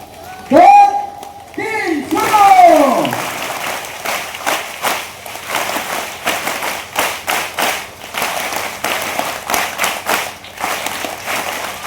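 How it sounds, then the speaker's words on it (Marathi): An audience at a promotional event for a Marathi TV serial claps in rhythmic bursts in a new pattern, crisp and close, after a voice speaks loudly over a microphone at the start. "आता ती नवीन पद्धत टाळ्या वाजवण्याची काय आहे ती आपण सुरू करूया"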